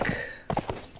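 Horse hooves clip-clop in the video game Mount & Blade: Warband, a quick cluster of soft thuds in an uneven rhythm over a low background.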